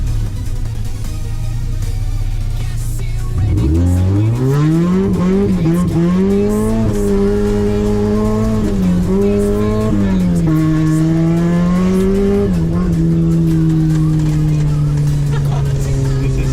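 A lowered Mazda MX-5 revs up loudly from a low idle, its engine note climbing and wavering through shifts before settling into a sustained drone, heard up close.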